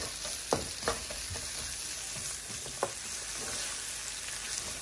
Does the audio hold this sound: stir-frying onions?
yes